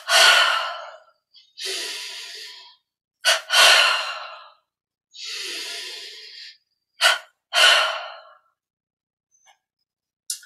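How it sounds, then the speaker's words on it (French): A group performing a double breathing exercise during meditation takes sharp, paired breaths, several loud separate inhale and exhale bursts split by silences, close and clear. "Om ensemble, double respiration."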